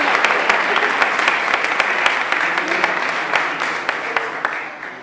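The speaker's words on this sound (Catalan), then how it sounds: "comencem amb un aplaudiment" Steady applause from a church conference audience marking a bishop's ordination anniversary, dense and continuous for the whole stretch, with a few louder individual claps standing out and a faint voice underneath.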